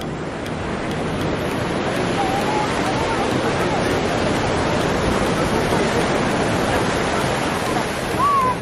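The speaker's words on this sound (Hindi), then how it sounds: "बहुत तेजी से लहरें आ रही हैं" Ocean waves break continuously on Chandrabhaga beach at sunrise, a dense, steady surf roar that fills the scene with no letup and a slight swell near the end.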